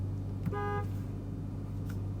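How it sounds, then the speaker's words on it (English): The horn of a 2024 Dodge Durango Hellcat gives one short, clear honk of about a third of a second over a steady engine idle inside the cabin. "I need to alert them to their error via horn."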